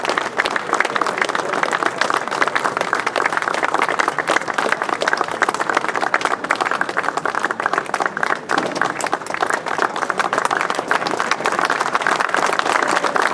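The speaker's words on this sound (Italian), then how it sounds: "Grazie di questo applauso dedicato a Beppe." Sustained applause from a crowd at an Alpini group's inauguration ceremony for its new headquarters, dense, steady clapping that continues without a break for over thirteen seconds, loud and fairly close.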